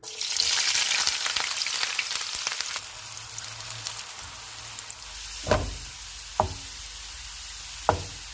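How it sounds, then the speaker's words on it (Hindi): Onions hiss and sizzle loudly in hot oil, the crackle fading to a gentler fry, with a few sharp knocks of a utensil against the pan. "ऑयल गर्म हो गया है, मैं इसमें प्याज डालने लगी हूँ।"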